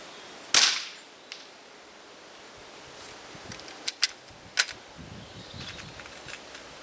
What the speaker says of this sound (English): I'll fire a couple of more shots.